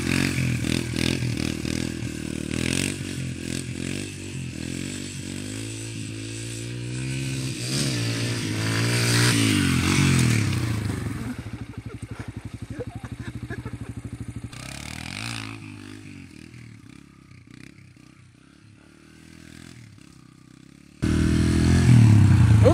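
Motorcycle engine revving and pulling through a lean-angle wheelie, rising harmonic tones with scraping and clattering, loud and steady, then easing off before a sudden loud burst near the end; no talking.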